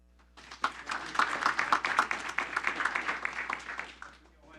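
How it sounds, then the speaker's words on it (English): Audience at a city council meeting applauds for military personnel who have served, a dense burst of many hands clapping that swells quickly, holds steady for a few seconds, then fades out. "Can I get an applause for all the military personnel that have served our country?"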